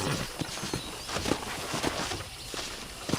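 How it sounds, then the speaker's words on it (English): Rhythmic clip-clop of horse hooves at a steady trot in the video game Red Dead Redemption on Nintendo Switch, close and clear over a bright, noisy background. "let's see if you can still ride a horse."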